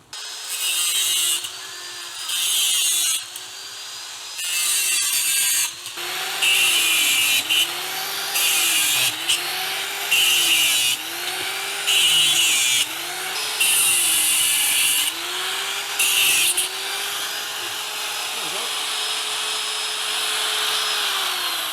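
A grinder works a metal motorcycle wheel spoke part outdoors, throwing sparks, in repeated loud bursts of whining, rasping contact separated by short pauses, then a longer continuous grind.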